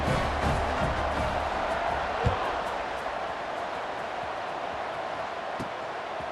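Stadium crowd in a college football video game, a broad distant roar of cheering that holds steady at moderate level with a few faint thumps.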